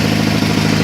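The engine of a Sears Suburban SS16 garden tractor runs steadily after a cold winter start, a loud, even idle with a low throbbing rumble, no voices.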